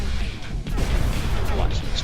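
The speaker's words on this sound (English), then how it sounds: "Watch some explosions for a second." Explosions in the strategy game Meridian: New World, a series of booming crashes and rumbling impacts overlapping one another, close and forceful, with a voice talking over part of the battle.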